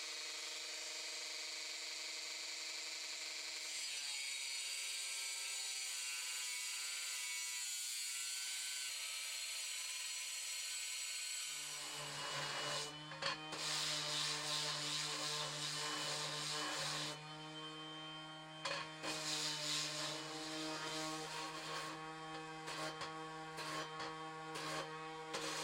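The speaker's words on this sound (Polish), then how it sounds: "W tym czasie tnę profile metalowe, które będą rozporami między słupkami." Metal profiles being cut for raspberry support spacers between posts, a steady loud power-tool whine and grinding that rises into harsher, denser cutting noise partway through, close and without talk.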